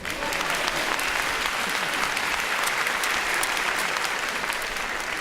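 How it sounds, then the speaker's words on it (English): Applause from a school awards ceremony audience, a dense, steady wash of many hands clapping that stays loud and even for about five seconds with no break. "You're supposed to clap at that."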